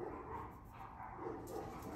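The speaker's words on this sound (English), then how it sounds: "You might hear my dog bark." A dog, one of three in a home, gives soft, faint barks and yips in the background, a few muffled calls over quiet room tone with no one speaking.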